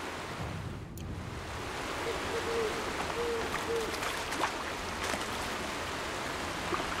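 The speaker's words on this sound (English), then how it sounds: "It's got water flowing down it." Steady rushing of river water flowing in the video game Horizon Zero Dawn, a broad, even wash of sound that holds at a constant level throughout, with a few faint clicks and soft tonal calls above it.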